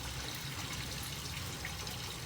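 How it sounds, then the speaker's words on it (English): Water rushes steadily from a garden hose being flushed through a Jeep heater core, a loud, continuous hiss and trickle that keeps going for the whole stretch. "we're just gonna get a garden hose, stick it in there"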